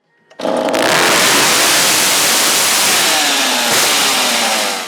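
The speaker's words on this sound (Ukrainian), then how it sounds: "лагодить бензопилу у своєму гаражі" A petrol chainsaw being repaired in a home garage starts up and runs loudly and steadily for nearly five seconds, with a brief dip in the engine note near the end.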